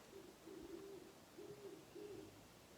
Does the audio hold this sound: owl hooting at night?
yes